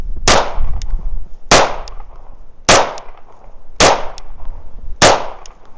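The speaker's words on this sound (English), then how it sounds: "We are shooting some 115 Federal." Five sharp pistol shots from a Kimber 2K11 Pro Comp firing 115-grain Federal ammunition crack out at an even pace about a second apart, each loud and close with a brief ringing tail.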